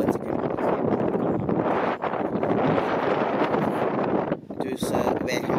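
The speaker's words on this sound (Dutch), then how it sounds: "zoals je hoort is er veel wind" Strong wind buffets and roars continuously, loud and close, with brief dips near the end.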